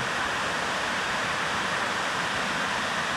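A waterfall near Colombo roars as a dense, unbroken wash of falling water, loud and steady with no pauses and no voices.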